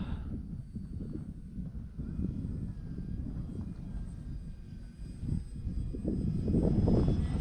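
An E-Flite Trojan T-28 radio-controlled airplane, 1.1 m span, flying outdoors, its electric motor a soft, distant drone that drifts and swells slightly, growing a little louder near the end.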